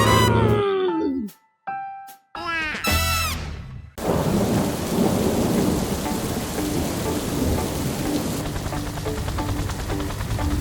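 Heavy rain pours steadily with rumbling thunder in a cartoon storm scene where a boat capsizes, after a few brief animated sound effects at the start.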